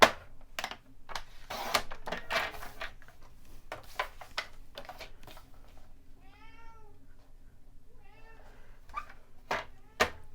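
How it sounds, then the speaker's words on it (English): A pet cat meows several times in drawn-out, complaining calls near a craft table. The calls sit among light tapping and handling sounds from card making, with no talking. "you'd think Tigger was suffering, but he's a little put off because I won't let him come up on the table"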